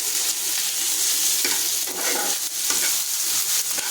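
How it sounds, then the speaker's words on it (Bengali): Chicken boiled with turmeric and salt and mashed boiled potato being stirred in a pan for a wrap filling, a steady scraping, sizzling stir throughout with repeated spatula strokes, close and moderately loud, no talking. "দিয়ে ভালো করে নাড়াচাড়া করে একটু সময় ধরে নাড়াচাড়া করব"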